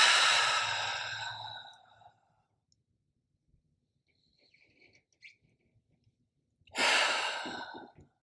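Deep breathing during a yoga session: a long, loud exhale at the start and another full breath near the end, with near-silence and faint soft rustles in between.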